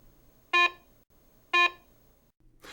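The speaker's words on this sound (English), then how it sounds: "Iron and nails produce this low-pitch audio signal." A Garrett Ace 150 metal detector sounding its low-pitch iron tone over nails: two short, identical buzzy beeps about a second apart, clear and close against quiet background.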